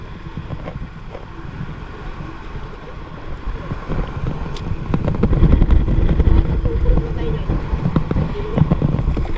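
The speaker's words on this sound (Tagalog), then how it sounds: "lakas ang hangin oh." Strong wind buffets the microphone at sea off an island near Mariveles, Bataan, a roaring, rumbling gust noise that swells louder midway, with boat and water sounds mixed in and voices talking over it.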